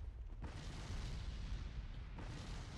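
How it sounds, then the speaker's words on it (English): A cannon in the Bloodborne video game fires as a broad, heavy boom that swells in, holds as a rumbling wash for over a second and a half, then cuts off. "this fucking cannon's going off or whatever"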